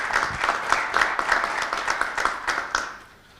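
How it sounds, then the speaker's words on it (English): Audience at a cyber security conference in Bucharest applauds a panel speaker, a steady burst of many hands clapping at close range that tapers off and fades near the end. "Round of applause for Panayotis."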